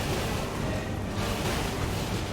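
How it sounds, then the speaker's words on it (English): A waterfall in Elden Ring gives a steady broadband rush of falling water, continuous and fairly loud throughout, with no distinct events. "That's waterfall."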